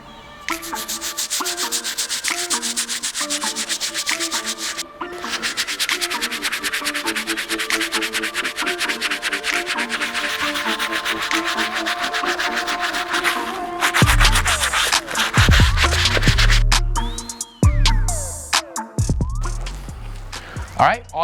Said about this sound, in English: The first brush we're gonna be using is our stiff bristle brush to clean up these cooked soles.